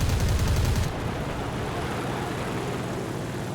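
A brief loud burst of aircraft cannon fire from a La-5F fighter in War Thunder, lasting under a second, then steady engine drone continues alone.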